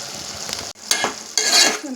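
Sambar masala is stirred in a hot pan, with a spoon scraping and shuffling through the frying paste in short bursts over a soft sizzle.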